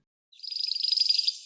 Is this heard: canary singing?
yes